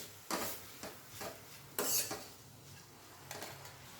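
Bitter gourd for a Maharashtrian karela bhaji is stirred and sautéed in a pan, a spatula scraping and clanking against the metal in about five distinct strokes, close and moderately loud, with a light sizzle underneath.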